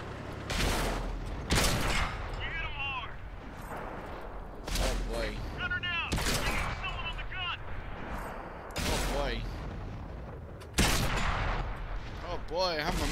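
Gunfire in a shooter video game, a series of sharp loud shots and short bursts spaced over several seconds, with someone talking between and over them.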